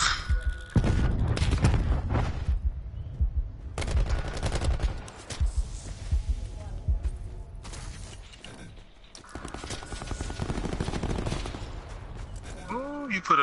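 Bursts of automatic gunfire crackle in Call of Duty Black Ops 4's Blackout battle royale, loud rapid volleys separated by short pauses, with mechanical clicks and players chatting between shots.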